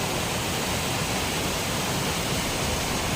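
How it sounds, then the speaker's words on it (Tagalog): Three waterfalls in a row pour with a loud, constant, broadband roar of rushing water that stays even throughout, and no voices are heard. "Tatlong waterfalls na magkakasunod."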